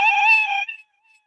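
A single cartoon-style cat meow from a kids' coding program, loud and close, lasting about two thirds of a second before fading to silence.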